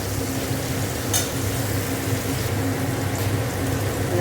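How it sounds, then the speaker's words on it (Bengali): Tomatoes fry in a pan with cardamom and garam masala, giving a loud, steady sizzle with occasional stirring scrapes and no voices. "টমেটোটা ভেজে নিচ্ছি ভালো করে, কাঁচা গন্ধটা যাতে চলে যায়।"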